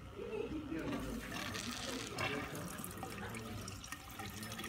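Water runs through a lab reflux condenser during a Diels-Alder reaction setup, a steady faint trickling and splashing under background noise throughout.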